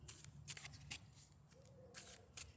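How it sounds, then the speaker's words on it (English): A deck of cards is shuffled up close, quiet riffling bursts and soft flicks coming in quick, uneven spurts. "while I'm shuffling the deck"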